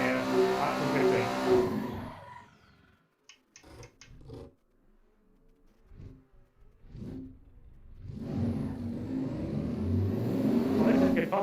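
A V8-swapped Nissan S14 in a racing sim game revs hard while drifting, engine loud at the start and end with a quieter gap of short blips and bursts between.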